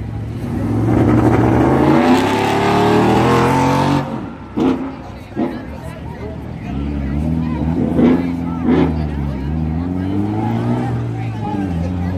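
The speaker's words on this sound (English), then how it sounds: "Loud car." A loud drift car roars at Oxford Plains Speedway, its engine revving high and sustained before dropping off, then rising again amid crowd babble and voices nearby.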